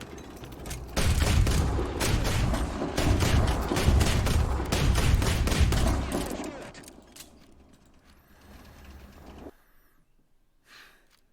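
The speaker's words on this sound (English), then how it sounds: "whenever you first fire, the guns are in sync" Aircraft machine guns firing in War Thunder, a loud, rapid, continuous fusillade of bursts for several seconds that then fades to engine drone and quiet, with a brief voice.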